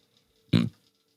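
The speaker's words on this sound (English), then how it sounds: "Oh, you hear that burp?" A single short, loud burp right into a microphone, about a quarter second of low guttural rasp, then quiet.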